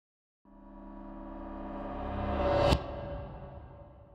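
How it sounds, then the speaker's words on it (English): Reversed Broken Cymbals patch from Transient Percussion Pro: a metallic wash swells steadily from silence over about two seconds, peaks in a sudden bright cut-off, then leaves a faint ringing tail. "a lot of things sound creepy when reverse, so let's do that."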